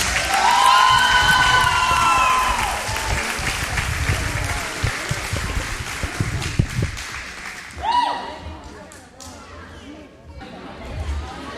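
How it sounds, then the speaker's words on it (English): An audience in a school gym applauds and cheers for seniors on senior night at a girls' varsity volleyball match at Lindsay Lane Christian Academy. Loud, dense clapping with whoops and crowd chatter tapers into scattered claps and voices. "Please give our seniors a round of applause"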